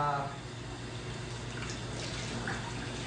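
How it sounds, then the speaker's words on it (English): Tap water runs steadily over a printed t-shirt in a sink, rinsing out the image, a continuous close splashing wash with low broadband hiss throughout. "Now you just run water over it in a sink."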